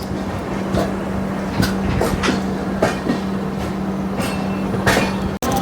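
A passenger train runs on rails on the way to Londa Junction, a loud, steady rumble with rhythmic clickety-clack wheel beats heard from inside the coach, without speech.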